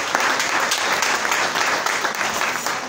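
A church congregation applauds after a scripture reading, giving dense, steady clapping from many hands that stays close and even throughout.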